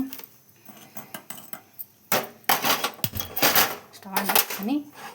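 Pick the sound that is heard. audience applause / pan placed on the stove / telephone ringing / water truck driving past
pan placed on the stove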